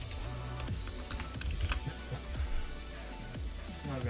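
Computer keyboard typing rattles in a quiet, continuous run of soft key taps, steady and close, with no voices.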